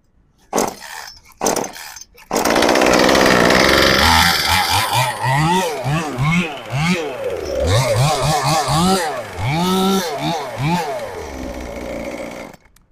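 Harz 12-inch chainsaw of about 3 kilograms, brief sputtering start attempts followed by the engine catching and running loudly, its pitch rising and falling repeatedly as the throttle is pressed and released, close and alone.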